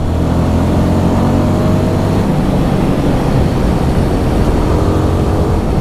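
A Royal Enfield Guerrilla 450 motorcycle with its Sherpa 452 single-cylinder engine revs steadily and loudly close by, a throbbing exhaust drone that holds without pause.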